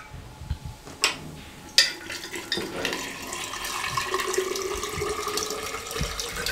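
Chilled water poured into soda for mint lemonade: a few faint clinks at first, then a steady, soft splashing and fizzing that continues quietly with no talk.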